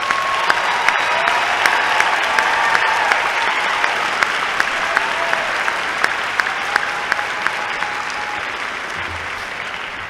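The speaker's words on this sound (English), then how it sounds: "please give them a round of applause" At the Morehead State University spring commencement, the crowd claps for first-generation graduates: a loud, continuous roar of applause filling the hall, staying even for ten seconds with sharp individual claps standing out.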